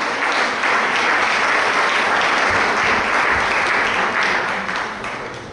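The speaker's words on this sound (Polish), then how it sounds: "Wielkie brawa, drodzy Państwo" A crowd at an awards ceremony applauds a company of the year, a loud, sustained roar of many hands clapping that holds steady and then tapers slightly at the end.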